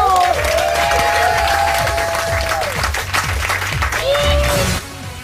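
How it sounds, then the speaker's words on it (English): Studio audience applause on a TV talent results show, loud and dense, with whistles and cheers riding over the clapping before it drops away near the end. "can we just give Daniel a massive round of applause?"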